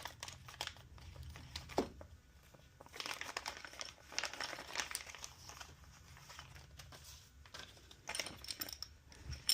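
Plastic packaging for a Starlink wedge mount hardware kit is crinkled and torn open up close, with scattered rustling, crackling and small clicks of loose parts, fairly quiet throughout.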